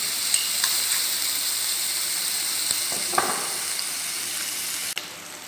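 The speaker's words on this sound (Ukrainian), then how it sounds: "У нас вже розігрілося масличко, закладаємо м'ясні продукти, обсмажуємо." Meat frying in heated oil in a pan, a steady close sizzle and hiss with a few soft clinks and stirring scrapes, no talking.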